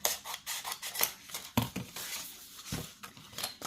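Scissors cut through wallpaper for craft tags with a quick series of close, crisp snips and papery rustles, alone without talk.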